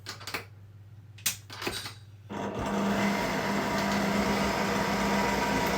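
Electric mixer combining self-raising flour, baking powder and other cake batter ingredients: a few short bursts of whirring, then a steady, loud motor drone that runs on alone to the end.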